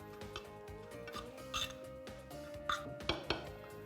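A spoon clinks and scrapes against a bowl as beetroot paste is stirred into potato, with a steady run of close knocks and scrapes that come through clearly with no talk.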